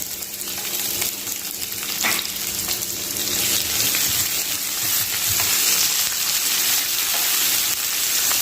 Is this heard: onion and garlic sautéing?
yes